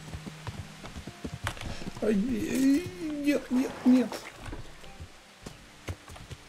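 Horse hooves clip-clop at a brisk pace in the video game Kingdom Come: Deliverance, a series of sharp knocks running beneath someone speaking over them.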